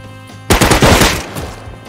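A loud, sharp rifle shot from a bolt-action rifle in the survival game Rust, cracking once and echoing off briefly into a fading tail.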